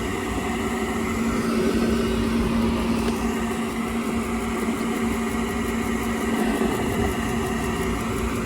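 A furnace inducer draft motor that had been overheating, running with a steady, continuous hum and whir at moderate level, unbroken throughout with no voices.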